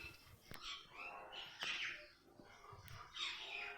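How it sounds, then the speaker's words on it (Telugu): Birds chirp and call around the Lepakshi temple mandapam in Andhra Pradesh, with several brief bright calls repeating over a soft ambient background and sharp clicks at intervals. "ఆ పక్షుల శబ్దాలు చూడండి ఎంత పీస్ఫుల్గా ఉండదు"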